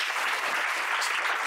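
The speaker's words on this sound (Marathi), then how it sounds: "एकदा धीरजसाठी जोरदार टाळ्या." A lecture audience gives loud, dense applause, a continuous wash of many hands clapping together throughout the short stretch.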